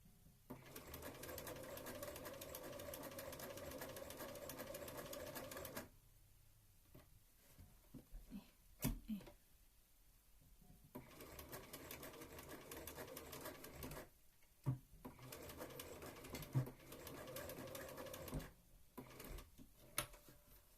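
Home sewing machine stitching a Regency dress: long runs of rapid, even mechanical whirring and clatter close up, broken by quiet pauses with small handling clicks, alone without talk.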